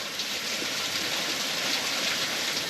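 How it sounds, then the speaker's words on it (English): A waterfall in Fiji gives a steady, even hiss of rushing water heard from a short distance, continuous and unbroken throughout. "just a bit further on you can see a waterfall just over there."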